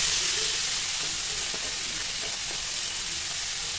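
Broad beans frying in a pan with onion and garlic give a steady, dense sizzle that stays even and close throughout, with no talking.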